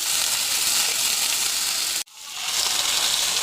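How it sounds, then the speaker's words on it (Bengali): Potatoes sizzle loudly in a pan with lightly fried onion, a dense close hiss that cuts out abruptly for an instant, then swells back to full strength. "আলুগুলো দিয়ে আমি ভালো করে কষিয়ে নেবো আলুগুলোকে।"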